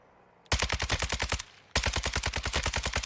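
Automatic gunfire in Warzone 2.0 sounds in two loud, close bursts of rapid shots, separated by a brief pause.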